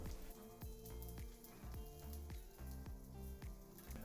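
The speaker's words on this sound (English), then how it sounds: "When the fats are hot and you can hear them sizzle, brown the cheek." Hot fat sizzles steadily as cheek meat browns in a pan, a close, continuous crackle with a regular clatter of light taps recurring roughly every half second throughout.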